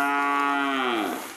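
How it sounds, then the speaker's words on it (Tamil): A single cow lets out one loud, close moo on the Velliangiri hills, a smooth rich lowing tone that bends downward and fades out over about a second and a half. "மாடுதான். மாடு மாடு சவுண்டு."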